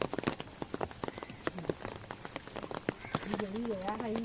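Steady patter of rain falling on a surface outdoors where seeds are being planted, with scattered drips and some faint voices and tonal sounds in the background.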